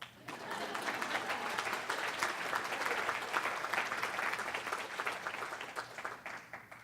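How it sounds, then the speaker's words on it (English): Audience applause fills the room after a talk on climate change action at an institution, a steady wash of many hands clapping for several seconds before tapering off, moderately distant. "Oh, do you want to clap?"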